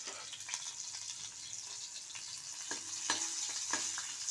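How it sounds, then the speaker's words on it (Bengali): Green chilies frying in oil in a pan, a soft continuous sizzle with occasional stirring clicks and scrapes, faint and close, no talking. "তো ভাজা করে নিই লঙ্কাটা"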